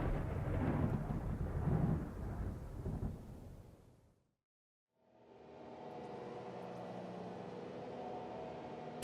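Thunderstorm in the video game Kingdom of Night: a loud, broad rumble of thunder and rain fades into a brief hush, then a steady wash of rain and wind returns and holds.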